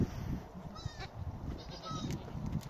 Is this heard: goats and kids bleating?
yes